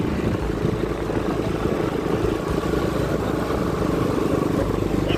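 Motorcycle ridden on a road in Ballia, India, a steady engine drone with wind rumble running close and loud throughout, no talk.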